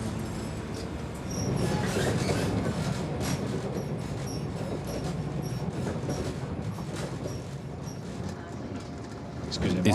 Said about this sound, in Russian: Я снова сажусь на маленький местный поезд.